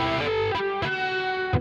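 Unmuted strings on a distorted electric guitar give a messy, ringing phrase, with sharp noisy pick attacks and a buzzing wash of extra string noise between the notes, loud and close, with no voice.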